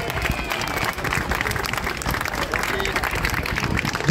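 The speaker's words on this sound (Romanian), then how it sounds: "Aplauze pentru Atrox!" Crowd at an outdoor gladiator fight show during a city festival applauds a gladiator, steady loud clapping mixed with crowd noise and some voices throughout.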